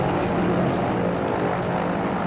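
A propeller airplane engine drones loud and steady throughout during an aerial stunt in the 1983 film Octopussy, with a person riding on the back of the plane, dense and unbroken with no voices.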